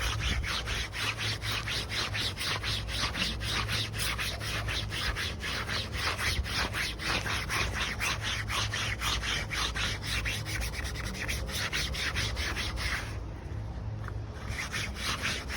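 A microfiber towel wiping grime off a travel camper's surface, a close, rapid, rhythmic rubbing scrub that keeps going for about fifteen seconds with a brief pause near the end.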